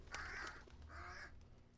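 Crows cawing in a horror video game, two harsh drawn-out caws close by against a quiet low ambient hum.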